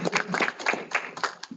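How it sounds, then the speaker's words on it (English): Brief, thin clapping from a seminar audience, a handful of hands beating unevenly for under two seconds, fairly close and not very loud. "So maybe one round of applause."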